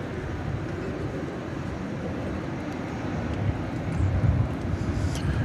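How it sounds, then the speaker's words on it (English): A UPS MD-11 cargo jet arrives at DFW Airport with a loud, continuous engine rumble that swells slightly near the end. "this one for UPS Flight 9770. An MD-11 on the way in"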